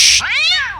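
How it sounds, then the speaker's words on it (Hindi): A cat gives a single close, loud meow, rising and then falling in pitch over less than a second. "मेरे पिछवाड़े में रोज रात को एक बिल्ली निकल आती है"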